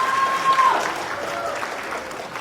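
An audience at a Hindu temple culture program applauds after a drama performance, a crowd of hands clapping steadily at moderate loudness for a couple of seconds, with a brief tone near the start.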